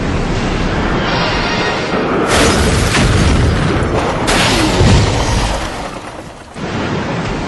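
A grenade goes off in a Resident Evil 3 parody animation: a loud, sustained explosive roar with bursts of debris and rumble that swell and fade over several seconds, no talking.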